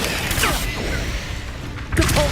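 The Confringo blasting spell goes off in Hogwarts Legacy combat, a sudden burst at the start and another near the end, with sharp whooshing impacts and a rumbling low end in between.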